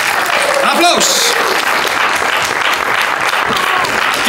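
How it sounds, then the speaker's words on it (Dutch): Audience applause for the Starter of the Year 2021 award winner, a full burst of clapping from a crowd at an awards event, steady and close, with a voice cutting in briefly. "Applaus!"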